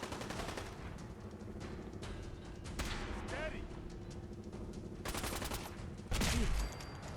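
Gunfire in Fallout 4 crackles in bursts and rapid volleys throughout, with a louder, heavier shot near the end, while a person talks over the shooting.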